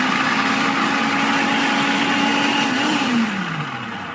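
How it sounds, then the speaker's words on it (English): A food processor grinds yautia root with a loud, steady whir that holds, then drops in pitch and tails off near the end. "what I'm doing now is I'm feeding the yautia into the food processor"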